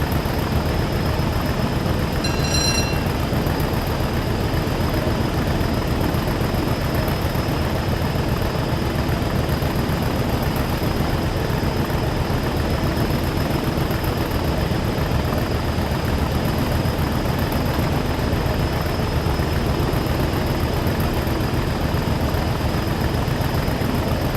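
An old diesel train engine runs in the Train Sim World 6 game on the East Coastway route, a continuous, unchanging drone with a constant hum that holds steady for the whole stretch, with no talking.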